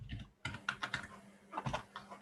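Typing on a Kinesis Advantage 2 ergonomic keyboard, a close, fairly quiet run of irregular key clacks in bursts with a short pause between them.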